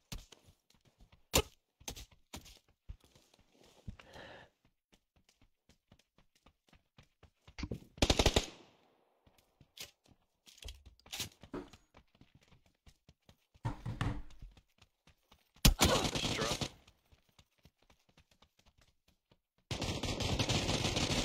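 M249 machine gun fired in a video game, heard in short, quiet, scattered bursts and single cracks with stretches of near-silence between them, followed by a louder sustained burst at the end.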